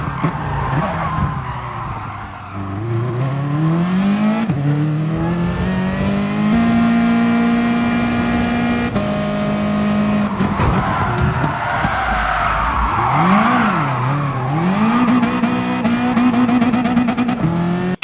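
Race cars in a GT racing video game skid and bump each other off track, engine notes rising and falling steadily throughout with tyre scrub layered over the loud, continuous revving.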